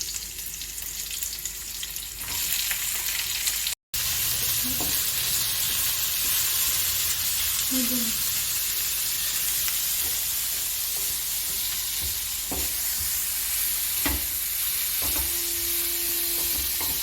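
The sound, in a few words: onions frying for chicken curry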